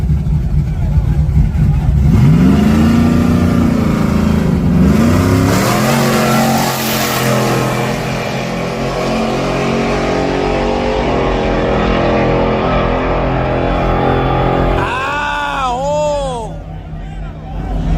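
Hoodless racing truck engine revving up loudly and close, with rising and falling pitch sweeps, a crowd murmuring and people talking underneath throughout.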